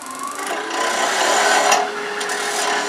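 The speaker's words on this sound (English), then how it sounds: "I'm going to switch to a smaller spindle gouge that'd be a little less aggressive" A smaller spindle gouge takes light cuts on a wooden spin top spinning on a lathe, giving a steady close-up rasping scrape that swells louder in the middle and carries on without pause.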